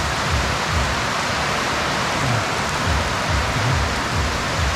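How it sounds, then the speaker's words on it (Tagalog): Rain pours down outdoors in the countryside while people shelter from it, a loud, dense, steady wash of sound close by, with no talking. "inabot kami ng ulan"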